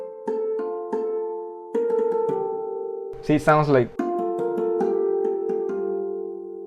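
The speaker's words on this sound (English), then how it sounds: "I want to have the harmonics of the harp" Soft, bell-like harp harmonics plucked one at a time, ringing and overlapping in a slow melody, briefly interrupted by a person speaking.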